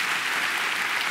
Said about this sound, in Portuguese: Pessoal, vamos aplaudi-lo.